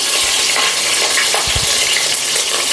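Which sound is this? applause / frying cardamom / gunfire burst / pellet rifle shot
frying cardamom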